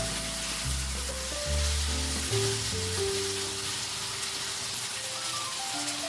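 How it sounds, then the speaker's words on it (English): Udon noodles stir-fried with meat and vegetables sizzle loudly and continuously in a hot pan, a dense crackling hiss running the whole time beneath a light melodic tune. "Stir frying the udon gives it a nice toasted flavor."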